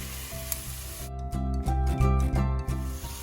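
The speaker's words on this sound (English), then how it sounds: "I stir fry the broccoli for at least 10 minutes" Broccoli stir-frying in a pan with a splash of dry white wine, a loud close sizzle that surges and pulses with each toss after a quieter start, with no speech.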